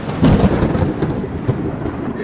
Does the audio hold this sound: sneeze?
no